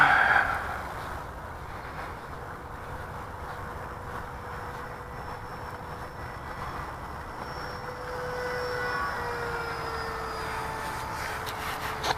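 An eFlite F-15 RC jet climbing away at full throttle, a faint steady whine drifting in pitch over outdoor wind noise, fading slightly then swelling again.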